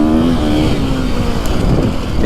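A 450 motocross bike, either a KTM 450 XSX-F Factory Edition or a Husqvarna FE450 Heritage Edition, pulls hard in third gear on a dirt track, its engine a loud, close, steady snarl.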